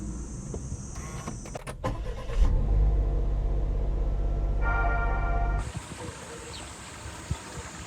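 A Happy1 Turbo kei camper van starts off: clicks and a door-like thump, then a steady low engine hum that swells as the van pulls away, settling into quieter road noise.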